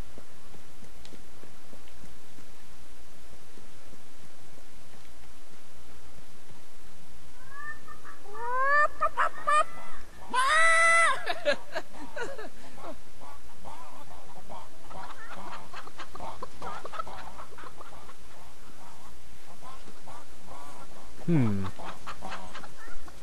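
Chickens cluck and squawk continuously in the video game Fable III, a busy flock near the house with repeated clucks and a few louder squawks midway, set over a steady game background.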